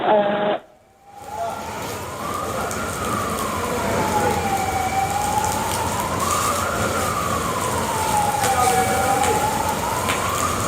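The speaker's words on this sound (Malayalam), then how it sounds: "ആംബുലൻസ്" An ambulance siren wails, rising and falling in slow sweeps over steady traffic noise in Kozhikode, loud and fairly close after a brief opening sound cuts off.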